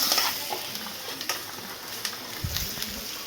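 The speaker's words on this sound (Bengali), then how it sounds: "আমি এখন পাস্তা রান্না করছি, তো তোমাদের দেখাতে চলেছি মানে ওটা কী করে রান্না করছি" Pasta frying and being stirred in a pan, with a low steady sizzle and scattered soft scraping ticks throughout, close by and fairly quiet, no talking.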